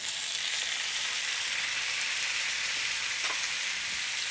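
Steady, loud sizzling as chopped tomatoes hit browned onions frying in a pan for paneer butter masala, a constant hissing crackle with no voices.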